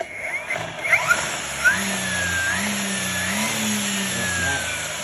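A modified electric brush cutter rated at 10,000 rpm and weighing 7 kg switches on after a few clicks, then holds a loud, steady motor whine with a slight wavering pitch.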